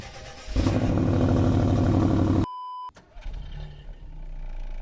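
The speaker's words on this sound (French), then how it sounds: "Donne voir quelques coups de gaz." A Peugeot 208 Allure with the 75 hp PureTech three-cylinder engine revs loudly and close by for about two seconds under a throttle blip. It then cuts off abruptly, followed by a quieter idle.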